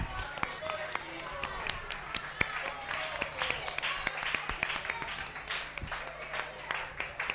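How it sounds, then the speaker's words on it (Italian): Scattered applause from an audience at a murder-mystery theatre show, mixed with sharp claps and a steady crowd murmur, moderately loud and continuous throughout. "Sì, facciamo un bel applauso al Duca che è resuscitato."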